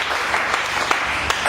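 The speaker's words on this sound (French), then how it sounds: "Nous acclamons très fort." A church congregation applauding loudly, a steady broadband wash of clapping with a few sharper peaks, close and continuous through the short moment.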